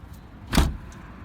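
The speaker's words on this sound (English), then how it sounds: "So this handle will close the door" The cab door of a Case 160 or John Deere 160 excavator swings shut with a single solid thud, close by, against a low steady engine-like rumble.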